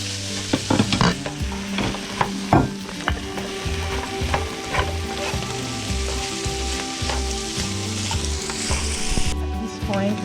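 Green peas and zucchini sizzle loudly as they fry in a pan for a lobster and vegetable pasta, with steady crackling broken by repeated scraping stirs.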